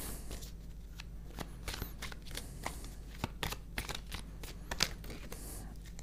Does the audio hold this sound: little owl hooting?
no